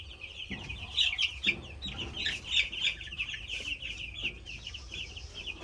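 Young chicks in a new coop cluck and peep in a busy, overlapping chorus at close range, with scattered louder calls and a little rustling underneath throughout.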